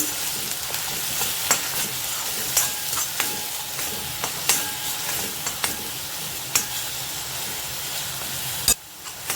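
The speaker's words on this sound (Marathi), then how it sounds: "त्याच्यात मी कांद्याची वाटलेली पेस्ट टाकते पेस्ट आपली चांगली परतून घ्यायचे" Steady loud sizzling of ground onion paste frying in a pan, with scraping stirring strokes recurring throughout and a brief dip near the end.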